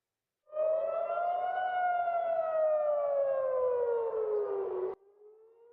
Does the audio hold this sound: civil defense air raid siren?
yes